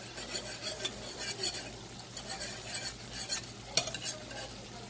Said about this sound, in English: I am just going to sprinkle a little bit and then whisk it.